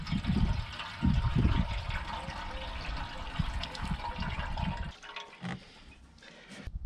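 Vinegar poured into the rusty fuel tank of a moped, filling it to the brim: a close, gurgling liquid pour with sloshing bursts, easing off near the end, no talk.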